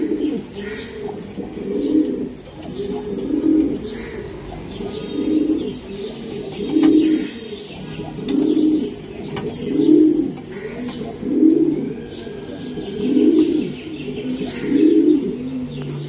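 Racing pigeons in cages give a steady series of low, rhythmic coos, close and moderately loud, with faint chirps and background noise between calls.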